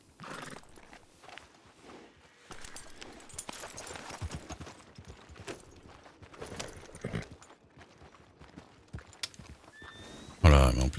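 A horse moves around close by with shuffling hoof sounds and a whinny, while a person talks over it; a loud burst near the end.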